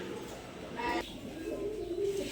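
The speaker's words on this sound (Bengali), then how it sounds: "এক জোড়া একদম পুরান জাতের খয়রা গলা কবুতর" A pair of old-breed brown-necked pigeons coo close by, with a low throaty burst of cooing followed by softer, drawn-out coos that run on over steady background noise.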